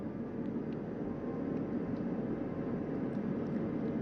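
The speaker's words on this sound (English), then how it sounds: "Helicopter 1 again hovering 40 feet over the front porch." A helicopter hovers about 40 feet above the Orion recovery ship, making a steady, loud rotor and engine roar that holds evenly throughout with no voices.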